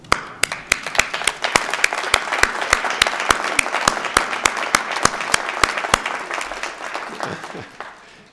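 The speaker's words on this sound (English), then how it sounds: "I invite you all to stand up, turn around, salute, and applaud your family and friends for their support from the sidelines." Standing graduates at a commencement ceremony applaud their family and friends, crisp rhythmic clapping close by over a dense crowd of clapping hands that tapers off near the end.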